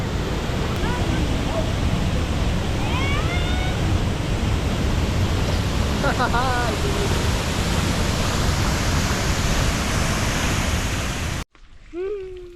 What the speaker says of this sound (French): Jolie petite cascade.